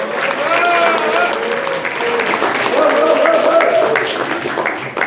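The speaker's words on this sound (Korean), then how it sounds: "뜨거운 박수 부탁드립니다." Audience applause at a ceremony introducing guests for a Korean women's political federation chapter in Seocho, sustained clapping from a crowd filling the room evenly, with a voice faintly audible underneath.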